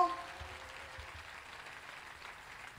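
A church congregation in Kolwezi applauding faintly, a soft diffuse patter of clapping that stays low and even for a few seconds.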